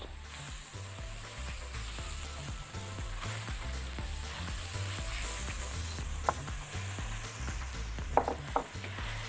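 Rice stirred into a hot, oily spice mixture in a pan for chicken fatteh sizzles and fries steadily, with scraping stir sounds and a few louder clicks near the end, no talking.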